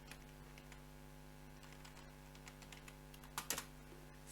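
Faint, quiet keystrokes on a computer keyboard tap intermittently over a steady low electrical hum, ending in a short burst of louder clicks.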